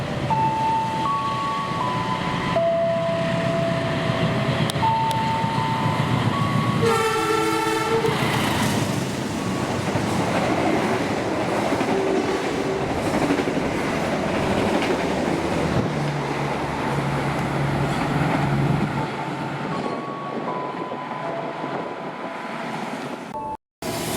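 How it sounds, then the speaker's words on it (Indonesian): A long train passes straight through a station at speed, a steady loud roar with a short horn blast early on and clattering wheels throughout, fading near the end. "kereta api melintas langsung"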